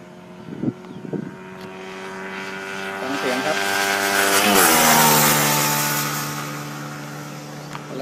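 A fuel-injected motorcycle approaches from a distance, swells into a loud roar as it passes close by, then fades away with a falling pitch.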